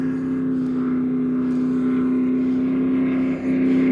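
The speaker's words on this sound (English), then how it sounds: "Yeah, Mr. Red Bull's out running again. Coming down the road, he's gonna come within about 300 feet of us" A Red Bull branded car's engine revs and drones steadily as it runs down a road, a loud continuous hum with a slight dip near the end, heard alone without voices.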